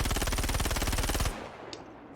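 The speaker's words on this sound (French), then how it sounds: "Alors voyons avec une rafale, on va dire rafale panique, voir comment ça part." Gemini C54 submachine gun in Star Citizen firing one sustained burst of rapid, evenly spaced loud shots. The burst stops abruptly, leaving a short fading tail with a faint click.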